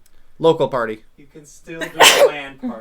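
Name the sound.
sneeze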